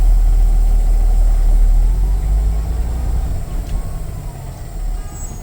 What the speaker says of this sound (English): I'm going to drive forward at 5 miles an hour and then apply the brake.